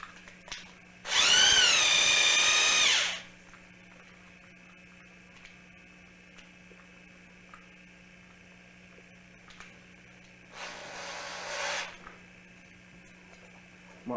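Two separate bursts of a small power drill with a tiny bit spinning, drilling small holes for lightsaber assembly, one about two seconds long and a shorter one later, with quiet pauses between them.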